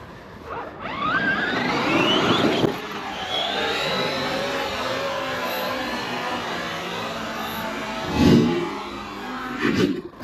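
An XRT RC truck drives and slides on its tires, a whining electric motor rising in pitch, then a sustained whirring rush, with a brief louder burst near the end.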